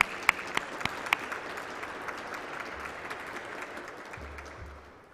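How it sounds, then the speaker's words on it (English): Applause at a MARTA employee recognition ceremony: a few crisp claps at the start, then a dense, even patter of hands that fades toward the end, with a low hum underneath. "I'm going to clap for that."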